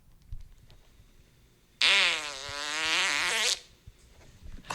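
A single long, loud, buzzing fart with a wavering pitch stands out clearly against a quiet background for about two seconds.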